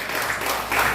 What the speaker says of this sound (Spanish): Damos palmas al Señor.